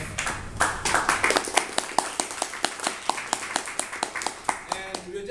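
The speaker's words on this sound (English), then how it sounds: "Give a big round of applause." A small audience gives a round of applause to welcome a speaker, irregular individual hand claps sounding fairly close and sparse, with scattered taps continuing throughout.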